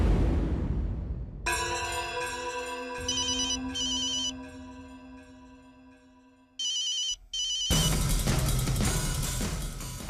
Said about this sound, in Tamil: ஐயா, அந்த மோகினி ஃபோன் பண்றாங்க